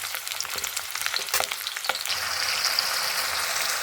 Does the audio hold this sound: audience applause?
no